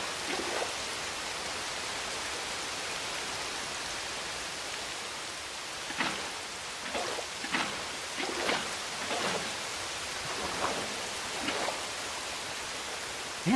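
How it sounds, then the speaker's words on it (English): Continuous rain hiss in a Minecraft-style video game fills the scene, with scattered louder patters and splashes appearing in the second half. "And it's raining."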